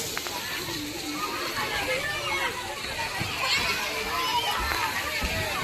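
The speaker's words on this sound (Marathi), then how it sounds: "पाणी कसं पडतंय?" A steady rush of falling water splashing continuously in a garden at Akkalkot, with children's voices talking over it.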